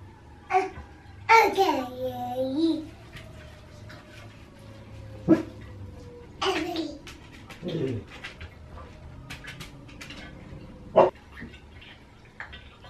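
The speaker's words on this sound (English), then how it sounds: "Why is she barking?" A pet dog barks in a home setting with a fire truck heading out nearby, giving a few separate sharp barks and whimpers spread across a quiet stretch, moderately close, with some faint background voices.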